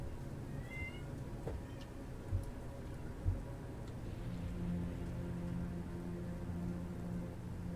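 A cat meows faintly a few times over a steady low background hum in a Kingdoms and Castles game session, with soft ticking and a rain-like hiss; no one speaks.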